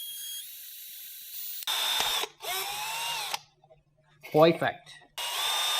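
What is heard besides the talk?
power drill drilling through welded metal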